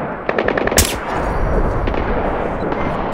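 Rapid automatic gunfire from Splinter Cell Blacklist during the Transit Yards mission, a quick burst of close, sharp shots followed by a sustained rumbling combat din with scattered distant reports.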